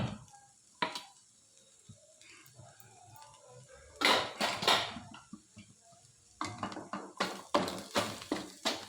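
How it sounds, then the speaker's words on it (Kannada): Rice being stirred into capsicum fry in a pan, with a spatula scraping and clinking against the metal in irregular bursts, some clusters of quick knocks, close by and moderately loud, no talking. "ಈಗ ಅನ್ನನ ಹಾಕಿ ಮಿಕ್ಸ್ ಮಾಡೋದು"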